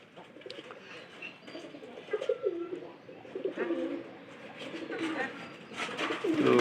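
A pigeon near its bathing water gives repeated low, throaty coos, close and fairly loud, over a quiet background with a little faint chirping and possible soft voices.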